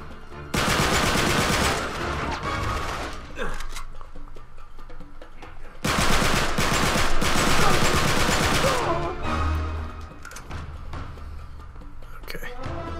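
Gunfire in the video game Uncharted 3, dense loud bursts of automatic shots in two long volleys with scattered single shots between, a voice speaking along with them.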